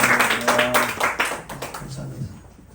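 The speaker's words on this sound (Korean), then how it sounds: "드럼 봉사해 주신 장로님께 박수로" Congregation applauding the church's volunteer drummer during a worship service, a short burst of scattered clapping that fades out, with talking over it.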